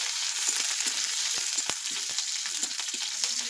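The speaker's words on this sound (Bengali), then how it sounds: "লঙ্কার একটু ভাজা হোক" Green chilies frying in hot oil in a home kitchen pan with five-spice seeds, a steady close hiss of sizzling broken by frequent small crackles and pops, with no voices.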